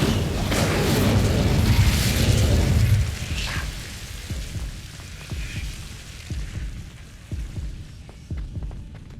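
An Incendio fire spell is cast in Hogwarts Legacy: a loud, deep whooshing boom that roars for about three seconds and then fades into softer low thuds.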